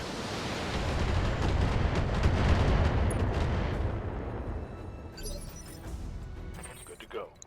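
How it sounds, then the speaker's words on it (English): A full artillery salvo fired in the Battletech mech game, a heavy rolling barrage of booms and crashes that builds then fades, with someone talking over it and a sharp burst at the close. "Firing a full shell."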